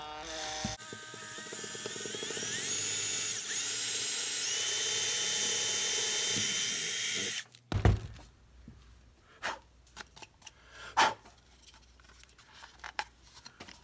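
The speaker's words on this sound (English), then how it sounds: "I'm going to take my drill bit with a drill bit, a little bit bigger than the size of the wire" An electric drill with a bit slightly larger than earpiece wire bores a pilot hole in a paramotor helmet, a loud steady high whine for several seconds that cuts off abruptly, followed by scattered knocks and handling noises.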